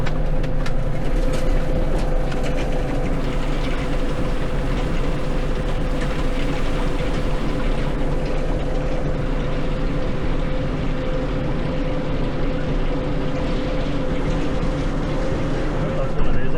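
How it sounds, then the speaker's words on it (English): A tractor-pulled tedder works a silage field, its steady engine drone and mechanical hum continuous and loud, with a wide vehicle sign rattling somewhere in the mix throughout. "There is something rattling, but I think it's one of the wide vehicle signs."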